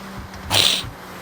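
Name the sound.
sniffling into the microphone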